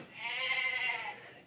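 A goat bleats once in a sound effect, a single loud, wavering, nasal cry lasting about a second, heard alone.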